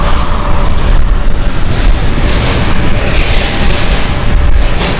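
An airliner taxis at Amsterdam Schiphol Airport, its jet engines a loud, steady, broadband roar that fills the whole stretch without letting up.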